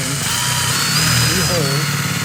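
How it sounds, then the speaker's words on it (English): A power drill with a 13/64 inch bit bores holes into the belt line trim of a Monaco motorhome, whining loud and steady up close, with the pitch wavering as the bit bites, while people talk over it. "what we're doing is we are just drilling"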